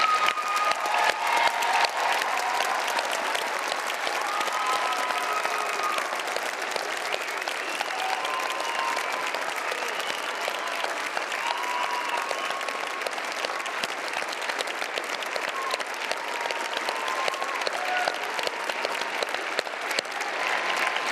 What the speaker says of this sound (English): One final round of applause. We're clapping till our hands fall off for our winners,